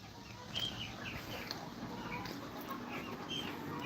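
Backyard chickens cluck and chirp softly while being tossed food in the morning, with scattered short calls over a faint, low outdoor background.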